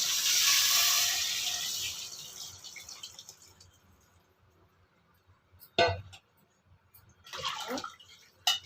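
Salted water pours steadily into a pot of dried-fish curry, loud at first and then tapering off, followed by a few clattering knocks and splashes.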